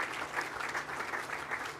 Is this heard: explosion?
no